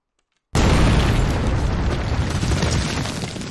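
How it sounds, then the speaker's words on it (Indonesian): After half a second of silence, a landmine explosion bursts in and rumbles on as a sustained roaring blast, heavy and close, filling the rest of the clip. "Baru aja selesai menghubungi base, Stuart terkena ledakan."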